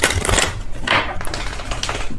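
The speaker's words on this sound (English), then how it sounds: "If I could shuffle my deck without it going everywhere" A tarot card deck is shuffled close by, a quick series of papery riffles and soft flicking slaps over a couple of seconds.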